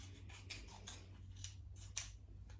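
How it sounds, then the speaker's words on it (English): Scissors snipping through material while trimming for an acrylic pour painting, a run of quiet, close, rhythmic cuts with one sharper snip near the end. "I'm going to cut it a little narrower."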